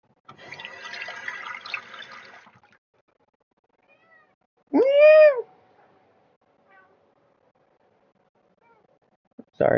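A cat gives one loud, clear meow in the middle, with a faint start of another right at the end, after a stretch of running tap water filling a sink at the start.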